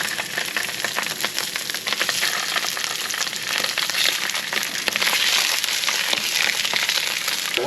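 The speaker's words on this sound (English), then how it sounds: "we're gonna cook our sausages now. We're gonna pan fry them" Sausages sizzle and crackle as they pan fry in oil, a busy, steady spitting hiss heard close up, with occasional scraping and no talk over it.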